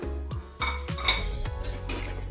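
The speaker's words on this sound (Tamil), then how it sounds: "இப்போ இதையும் வந்து இந்த கடாயில் ஆட் பண்ணிக்கலாம்." Sun-dried curry leaves tipped into a metal kadai, a few sharp metallic clanks and scraping knocks of a spoon against the pan, close and clear with no talk.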